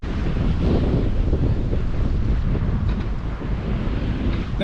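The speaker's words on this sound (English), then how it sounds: "because that wind's blowing" Strong coastal wind buffets the microphone throughout on a shoreline while light-rod fishing near a trawler coming in, a loud continuous roar with a hint of surf beneath and no talk.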